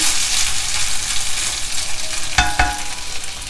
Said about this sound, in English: Raw banana roast and stir it around.